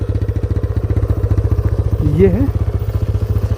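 A TVS Raider motorcycle engine runs with a clattering, ticking fault. It gives a steady, rapid, loud pulsing drone close by, and a brief voice speaks over it midway.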